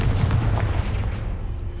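A Confringo fire spell blast in the video game Hogwarts Legacy, a deep booming burst with a rumbling tail that fades over a couple of seconds, loud and close.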